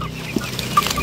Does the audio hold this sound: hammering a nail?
no